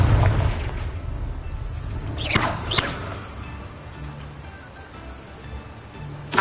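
Confringo fire spell in a Harry Potter video game, a rumbling blast loud at the start that fades through the clip, with a couple of sharper whooshing bursts in the middle and one last pop at the end.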